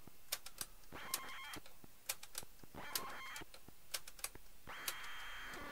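A ZX Spectrum cassette tape loading, harsh, high screeching data tones in bursts, interspersed with sharp clicks and ticks, fairly faint and alone without speech.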